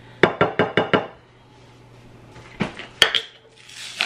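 A utensil knocks against a pan while bacon grease is stirred for an Alfredo dish, making five quick evenly spaced clanks, then a pause and a few scattered scrapes and taps.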